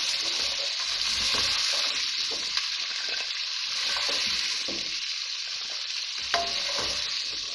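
Mixed vegetables frying in oil in a pan give a dense, steady sizzle with occasional stirring scrapes and a couple of sharp clinks, close and continuous, with no speech.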